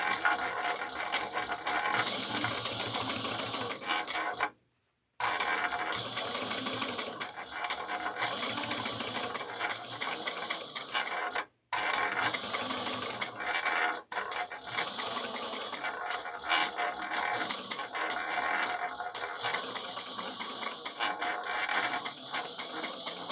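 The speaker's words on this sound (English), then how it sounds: "we're going to do 1/4 of an inch back stitching in the beginning and end." A sewing machine back stitches a handbag in fast, rapid bursts of needle clatter, with two short pauses between runs.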